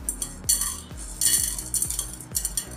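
Peanuts, urad dal and chana dal roasting dry in a pan over a low flame while being stirred, with repeated scraping strokes and light metallic clinks of a spoon against the pan and a soft rattle of the pieces.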